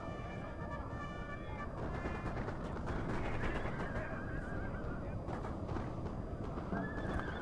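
Cavalry horses whinny and neigh repeatedly in Napoleon: Total War, rising above a dense, steady battle din of massed troops that fills the whole scene.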